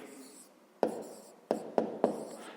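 Handwriting a fraction with a pen during a fifth-grade maths exercise: four sharp scratches or taps, spaced unevenly, over a faint steady background hiss.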